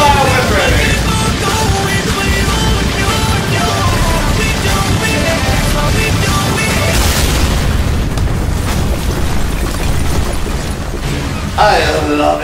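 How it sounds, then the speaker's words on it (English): Loud, dense video game audio with continuous booming explosions and crashing noise, voices talking over the din throughout. "I love explosions."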